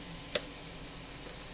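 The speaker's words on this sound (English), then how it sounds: "See, that's already hot. Let's put the spinach in." Fresh spinach sizzles in a hot pan with balsamic vinegar. A steady, hissing crackle fills the whole moment, with a brief clink near the start and no speech.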